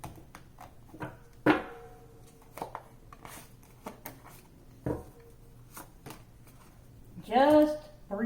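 Tarot cards being shuffled for a Virgo love reading, with scattered soft riffling and brisk flicks of the deck, a couple of sharper snaps, and a louder burst of card noise near the end, heard close up in a quiet room.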